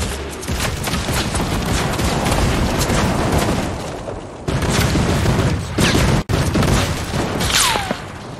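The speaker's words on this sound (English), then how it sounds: "Oh, he's got turret." Sustained turret fire in a video game, a loud continuous barrage of rapid shots with a couple of sharp breaks and a falling whine near the end.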